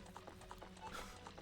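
Steady clip-clop of horse hooves trotting in the video game Ocarina of Time, a quick even rhythm heard faintly and alone.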